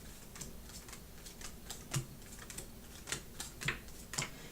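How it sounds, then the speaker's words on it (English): Tarot cards are shuffled by hand, producing soft, irregular flicks and light snaps in quick bursts, quiet and close with no talking. "I'm going to go ahead and shuffle the rest of these."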